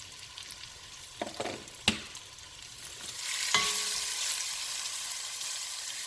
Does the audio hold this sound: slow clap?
no